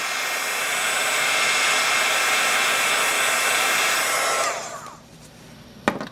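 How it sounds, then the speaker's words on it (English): A heat tool blows a steady, loud whooshing stream of hot air for about four seconds over stamped archival ink on a craft project, then cuts off, followed by quiet and a single sharp click. "I'm just going to hit it with the heat again"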